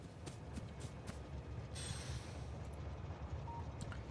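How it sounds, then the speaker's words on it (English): A train pulls into a station in the factory-building game Factorio, a faint continuous rumble of rolling wagons with light rattling and a brief squeal, steady and distant. "So, there comes the train."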